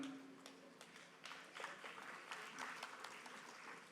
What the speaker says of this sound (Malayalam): ചില ആൾക്കാർ ഇത് കേട്ട് കൈയടിക്കുന്നുണ്ട്